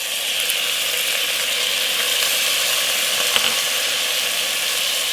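Chana dal and cumin seeds frying in moderately hot oil, a loud continuous close-up sizzle with a faint crackle of popping seeds and one small tap of a utensil, no talking.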